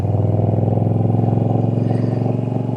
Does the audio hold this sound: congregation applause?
no